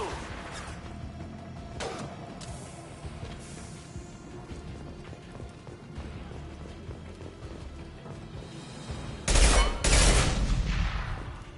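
Gunfire in the sci-fi shooter Mass Effect 2: scattered shots crackle over a dense combat backdrop, then a loud, sustained burst of fire erupts near the end, close and forceful.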